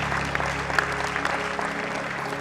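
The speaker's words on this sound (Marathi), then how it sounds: "जोरदार टाळ्या सरांसाठी." Audience applause welcoming a guest editor at a public event, a steady burst of clapping from a crowd that fades slightly toward the end.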